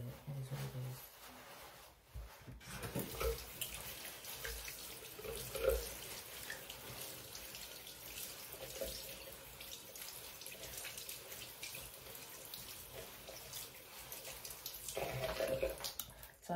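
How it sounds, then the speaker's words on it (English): Tap water runs continuously into a sink during handwashing, a steady splashing rush with slight swells in volume and a faint clink or two, heard close. "I just wash my hands before I leave the house"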